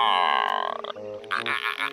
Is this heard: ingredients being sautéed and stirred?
no